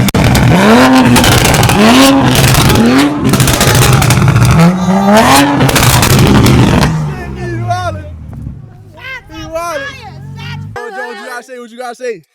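A loud BMW M5 revs hard in the Bronx, its rising and falling engine sweeps repeating over several seconds, then dropping away as people talk and shout nearby.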